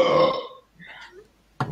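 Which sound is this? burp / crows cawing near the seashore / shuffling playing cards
burp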